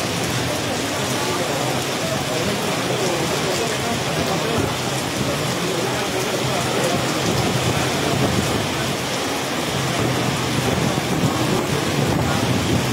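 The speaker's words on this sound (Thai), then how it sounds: "โอ้โหลมแรงมาก" Strong wind buffets steadily in a continuous, loud roar mixed with falling rain, unbroken for the whole stretch.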